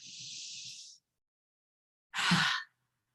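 A long, airy exhale during a breathwork session, soft and close, followed after a pause by a sharper, louder breath.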